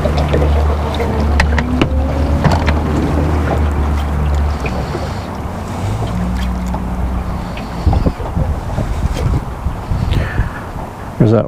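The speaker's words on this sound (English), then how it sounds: "There's that wind picking up a little bit." Wind gusts buffet the microphone outdoors by the water while fishing on a January day, a loud continuous rumble that swells and eases, with light knocks and a few spoken words mixed in.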